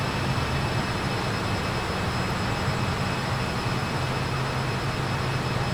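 Jet engines of a Piedmont Airlines Fokker F28-4000 in cruise flight give a loud, constant broadband roar with a low hum underneath, heard from inside the aircraft and unbroken throughout.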